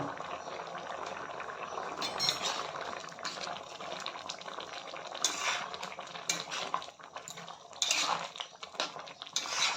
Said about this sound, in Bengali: 5 মিনিটের মতো হয়ে গেছে, দেখতে পাচ্ছেন ভালো মতো বয়েল হচ্ছে।